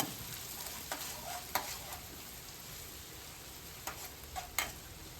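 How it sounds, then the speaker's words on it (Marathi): Chopped onion sautés in a pan, a faint steady sizzle broken by a few sharp clicks and scrapes as it is stirred. "आम्हाला कांदा चांगला परतवून घ्यायचा."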